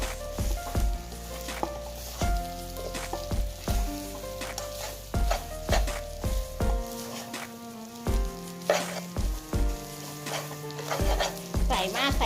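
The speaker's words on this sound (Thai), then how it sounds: "ใส่ ชะอมลงไปค่ะ ผัดคลุกให้เข้ากันนะคะ" Cha-om leaves stir-fried in a pan, with loud rhythmic scrapes and clanks of a spatula against metal over a sizzling crackle, close up and repeating every second or so with no speech.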